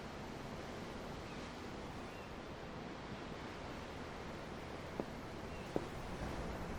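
Ocean waves in the video game Tales of Arise form a steady, faint broadband wash of surf with no distinct breaks, like continuous rolling water heard at a distance, with a couple of tiny clicks near the end.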